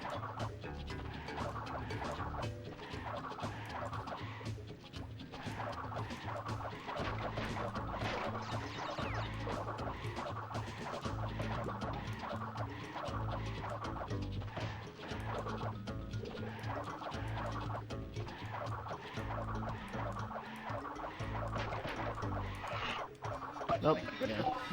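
Birds cluck and gobble continuously in the video game Crash Bandicoot 2: Cortex Strikes Back, a busy run of game sound effects over steady music, fairly quiet, with occasional talking.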